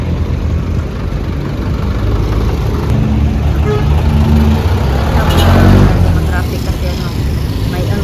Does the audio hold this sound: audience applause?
no